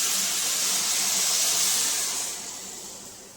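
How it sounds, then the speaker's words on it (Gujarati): About one small bowl of milk is poured into a hot pan of roasted beetroot for halwa, setting off a loud, bright hiss and sizzle that holds steady and then eases off. "હવે આપણે એમાં એડ કરશું 1 વાટકી જેટલું દૂધ"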